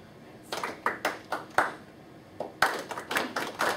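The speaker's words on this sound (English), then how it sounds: "Clap and say your name." Hands clapping in a lecture activity, a rhythmic pattern of sharp claps in short groups with brief pauses, fairly close, with no talk over them.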